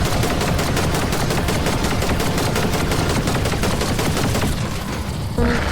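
Rapid, continuous gunfire from a video game boss fight against a squid-like creature, a dense stream of evenly spaced shots that stops abruptly near the end.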